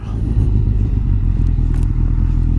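Motorcycle riding along a forest road through Mohican State Park in Ohio, a steady low engine drone with light rattling and wind, continuous and close throughout with no talking.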